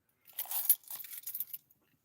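A keychain holding truck keys, including a Freightliner semi key, jangles close up in a cold cab, a bright metallic rattle in a couple of quick bursts that then falls silent.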